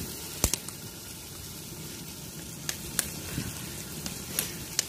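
Masala for a village-style chicken biryani fries in oil over a wood-fired stove, a steady close sizzle with scattered pops and a few louder clicks.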